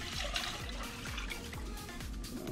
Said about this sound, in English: we got 4 cups of water, so you can see, and then pour it in here.